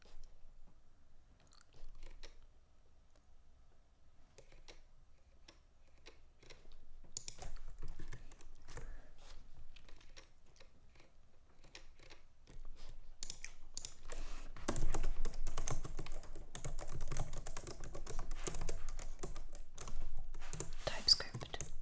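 Soft computer keyboard typing during a work-from-home coding session, starting as sparse quiet clicks and growing into busier, denser bursts of keystrokes, close and gentle with faint whispery sounds mixed in.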